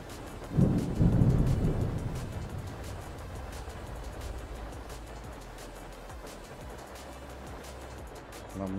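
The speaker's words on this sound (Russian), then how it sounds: "Блин, у нас дождь." In the bus-driving video game The Bus, a low rumble of thunder rolls in near the start, then steady rain hisses softly for the rest, fairly quiet overall.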